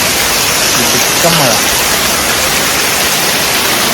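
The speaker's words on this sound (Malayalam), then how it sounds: "കേട്ടാ നല്ല മഴയാണ്" Heavy rain pours down as a loud, unbroken hiss that fills the whole stretch, with a brief voice faintly under it.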